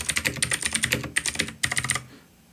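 Rapid, crisp clacking of typing on a Keychron C1 mechanical keyboard, three close bursts of quick keystrokes with brief pauses between, then stopping abruptly into quiet.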